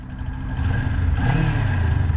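A Kawasaki Ninja 400 motorcycle pulling away, its engine rising in pitch and loudness over about two seconds, close and alone.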